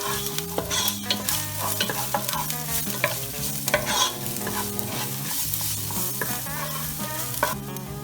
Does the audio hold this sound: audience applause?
no